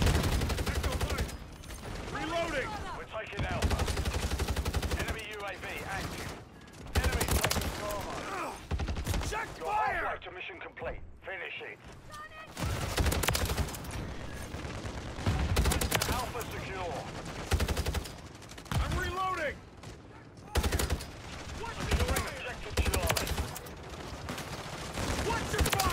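Battle rifle gunfire in a fast-paced shooter video game, dense rapid bursts of shots running nearly nonstop with a brief lull near the middle, loud and close under busy game action.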